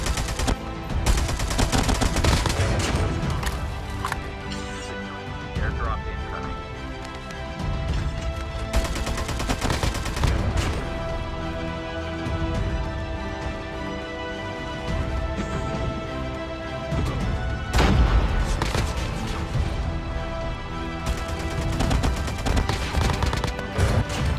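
An AK-47 fires in a video game in repeated automatic bursts, loud and close, with brief pauses between volleys and no talk.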